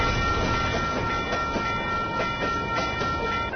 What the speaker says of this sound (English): We'll have one train that comes through here on 21st and Broadway